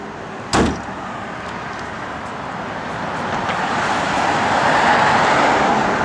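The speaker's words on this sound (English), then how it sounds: "Power trunk release does work," The power trunk release on a 1971 Oldsmobile Cutlass SX fires once with a short, sharp clunk, followed by a low steady hum that swells slightly.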